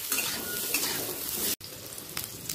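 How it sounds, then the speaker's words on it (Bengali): Potatoes frying in oil together with bitter gourd for shukto give a continuous near sizzle with light utensil scraping, cut off by a brief silent gap partway through. "আলুটা লাল করে ভাজা হয়ে গেছে"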